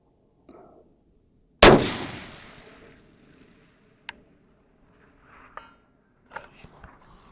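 A long-range rifle fires once at a target 1,000 yards away, a sharp loud crack with a decaying echo, followed by faint clicks, a distant metallic ping and small handling sounds.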